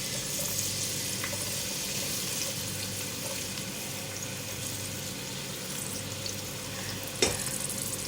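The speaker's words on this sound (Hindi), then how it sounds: "प्याज का लाइट सा गोल्डन कलर हो जाए इतना फ्राई करेंगे इसको।" Sliced onions sizzle steadily in hot oil in a pan for chana pulao, a continuous close frying hiss with a faint clink near the end.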